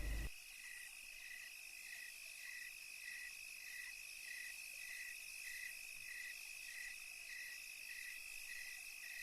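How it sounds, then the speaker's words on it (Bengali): Crickets chirp steadily through a dark night, a regular pulsing trill repeating evenly over a constant hiss of insect noise, fairly quiet and with no voices. "নিশি কালো অন্ধকারের মাঝে শুধু ঝিঝি পোকার ডাক কানে ভেসে আসছে।"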